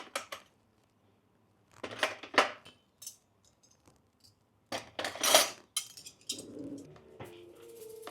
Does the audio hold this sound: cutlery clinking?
yes